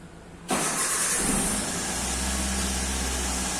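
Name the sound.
Toyota Avanza 2005 engine starting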